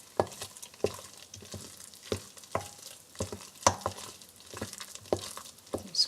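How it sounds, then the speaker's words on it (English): Potato dumpling dough made with flour, margarine, salt and eggs is kneaded by hand, giving close, regular squelching presses about twice a second with soft sticky slaps. "I'm going to be kneading it together by hand"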